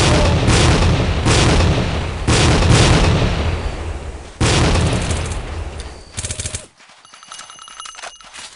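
Grenade blast and heavy gunfire in the Tactical Ops: Assault on Terror multiplayer shooter on the Dustbowl map. Loud, dense bursts of shots and booms run back to back, then cut off abruptly into a quieter tail of scattered sounds.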